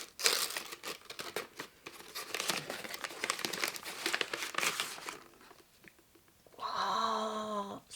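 Plastic-based gift wrapping paper crumpled and crinkled loudly and steadily up close for about five seconds, then a short pause before a different tonal sound takes over near the end.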